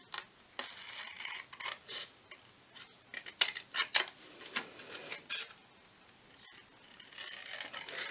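Scissors cutting rounded corners on paper mini journal cards: close, soft crisp snips coming in uneven clusters, quiet and without speech.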